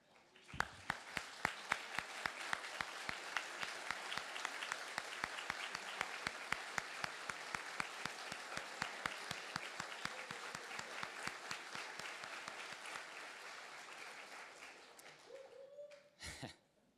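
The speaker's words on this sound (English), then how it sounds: "I think we all should stand and give them another round of applause." An audience at a residency graduation ceremony for a health system bursts into broad, sustained applause with sharp individual claps standing out, building quickly and tapering off after about fifteen seconds, followed by a brief tone and a thump.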